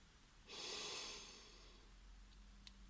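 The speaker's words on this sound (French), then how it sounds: "On va commencer par prendre 3 grandes respirations." A single deep inhalation during a guided meditation and hypnosis session, a breathy rush of air drawn in through the nose that swells quickly and then fades into quiet, close and alone.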